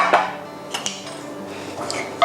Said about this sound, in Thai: ตอนนี้เราตั้งกระทะสำหรับผัดซอสที่จะไว้ราดเส้นหมี่นะคะ